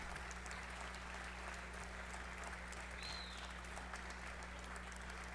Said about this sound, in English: how long are they going to clap?